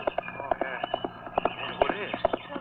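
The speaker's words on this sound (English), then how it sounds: "It sounds like a horse." A horse trots up along a country road in rhythmic clip-clop hoofbeats, moderately close and steady, mixed with a voice talking over the approach.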